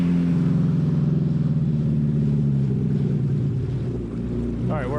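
A Yamaha Waveblaster 2 personal watercraft idles on the water, its engine giving a steady, loud low rumble that runs throughout, with a brief higher whine near the end.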